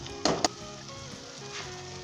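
Pan frying over a high flame for a Punjabi aloo moongray sabzi: a steady close sizzle runs throughout, broken early by two sharp clattering bursts.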